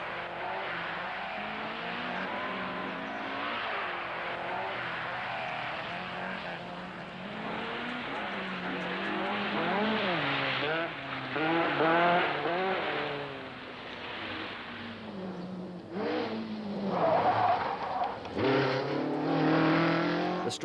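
1970s rally cars race on slippery Greek tarmac, engines revving hard and rising and falling in pitch as they power through bends, loud and close with no talk.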